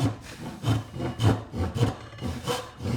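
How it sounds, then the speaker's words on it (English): A hand saw starts a cut in clamped wood for a through-wedged mortise and tenon joint, making about six short, even rasping strokes in quick rhythm, close and alone. "get the saw right up against that little"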